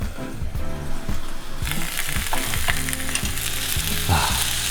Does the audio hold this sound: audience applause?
no